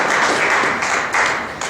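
An audience claps for a keynote speaker at a nation-building event, a short burst of loud, dense, close applause that swells in a couple of waves.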